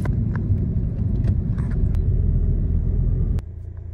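A car cruising in sixth gear on local city roads, giving a steady low engine and road rumble throughout that drops abruptly in level near the end, with no talk over it.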